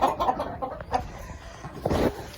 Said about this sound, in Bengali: এই যে দেখেন, মিশরীয় ফার্মি মুরগি, এখানে ডিমগুলো দেখা যাচ্ছে।